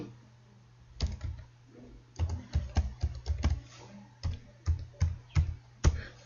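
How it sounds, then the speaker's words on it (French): A password being typed on a computer keyboard while logging into a MySQL server: short bursts of crisp, close keystrokes in uneven clusters, separated by brief pauses. "Je tape mon mot de passe."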